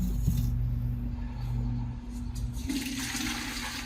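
Water and paper pulp rush into a jug for papermaking, a brief gushing pour that swells and then trails off, close and alone.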